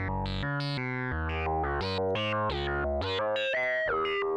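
Bright, metallic synthesizer tones from a square wave ring-modulated with a sine wave an octave up, clangy, bell-like inharmonic overtones, playing a quick sequence of distinct notes, loud and alone.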